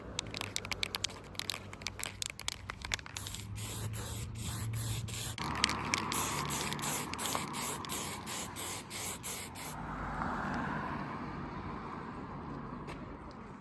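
Spray can applying paint to a Honda Fireblade SC28 instrument bracket after degreasing, a series of short hissing bursts followed by longer continuous sprays, close and fairly loud.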